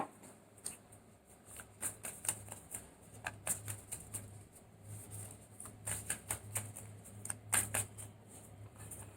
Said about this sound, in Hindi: जब तक मैं शफल कर रही हूँ